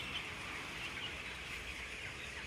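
Many chickens crowded inside a farm barn make a faint, continuous murmur of soft clucking that runs unbroken through the whole stretch, with no voices.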